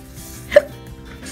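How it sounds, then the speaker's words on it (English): A single sharp hiccup from a person, short and fairly loud against a quiet indoor background, with faint low murmur around it. "I get the hiccups all the time."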